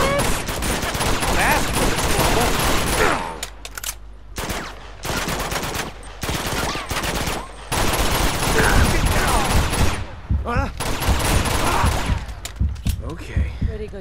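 Bursts of automatic gunfire and fusillades from the Uncharted 2 video game, loud and dense with brief lulls between volleys, mixed with voices talking over the action.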